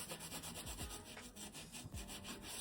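The sole of a Jordan 1 sneaker is scuffed and roughed up by hand while it is being made into a bowling shoe, producing close, repeated gritty rubbing strokes in a steady back-and-forth rhythm.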